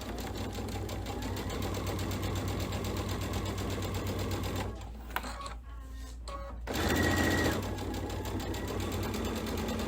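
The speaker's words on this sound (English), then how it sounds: "I'm just going to begin sewing" A sewing machine runs steadily, stitching a quarter inch seam in a fast, even whir. It pauses briefly partway through, then resumes with a short burst of stitching.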